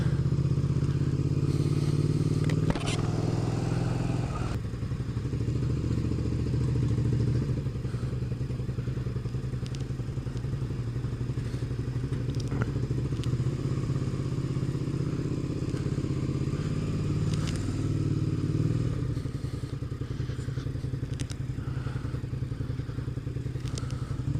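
A motorcycle rides through traffic with a steady, loud engine drone close by, overlaid with wind rumble and occasional clatter and thumps throughout, no speech.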